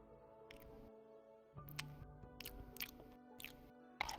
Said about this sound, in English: Oh, it sounds like a really good sandwich.